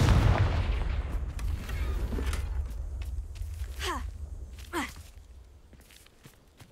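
Confringo fire spell in Hogwarts Legacy, a game blast opening with a loud booming burst that decays into rumble, followed by a couple of sharper whooshing impacts.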